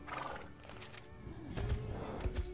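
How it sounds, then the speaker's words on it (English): A horse in Fallout: New Vegas whinnies and snorts amid game background noise, with low thuds and a second neigh later on. "Sounds like a horse as well."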